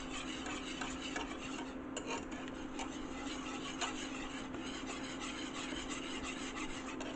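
A spoon scrapes and stirs a thick gluten-free vegan cheesy sauce for spaetzle in a pot, producing a steady, close rubbing and scraping rhythm over a faint constant hum, with no speech.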